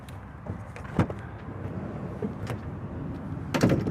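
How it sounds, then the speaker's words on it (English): The main door of a 2023 Winnebago Revel 44E motorhome clicks and slides open with a few sharp latch knocks and thumps over a low background hum. "as we open this main door here,"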